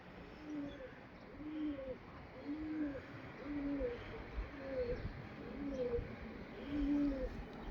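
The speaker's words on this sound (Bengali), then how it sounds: "এটি একটি তলোয়ার পাখির কবুতর" Khulna local pigeons coo in a steady, repeating pattern of soft, low, rounded calls at a moderate distance. The calls come over a constant background rumble, with no talk.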